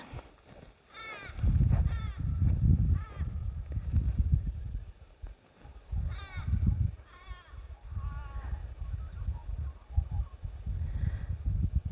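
Crows cawing beside a river in summery Australian bushland, a series of harsh repeated caws from fairly close, with some calls farther off over continuous low rumbling background noise.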